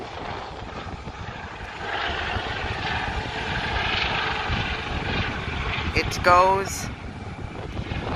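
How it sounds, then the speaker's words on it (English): A helicopter lifts off at an airport, its steady engine and rotor roar filling the scene while a person talks over it, with a brief rising whine near the end. "There goes our helicopter."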